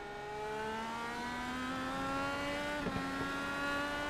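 A race car engine whines upward in pitch as it accelerates at Spa-Francorchamps, a sustained rising howl heard from a distance without any talking.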